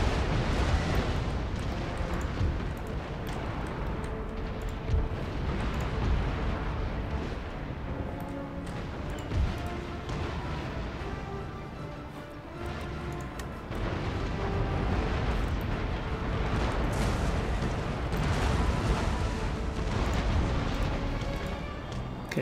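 Naval cannon broadsides from sailing warships in the strategy game Empire Total War roll out as a dense, continuous barrage of heavy booms and rumbling blasts, loud and sustained with occasional sharper peaks.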